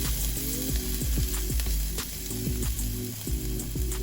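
Garlic sizzles and fries in a hot pan for haricot vert, a steady crackling hiss with repeated scraping stir strokes close by.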